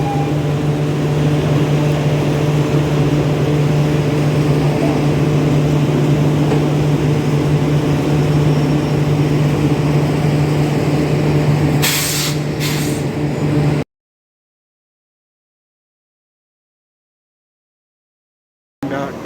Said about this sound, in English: Now let's see the coupling of engine with the train.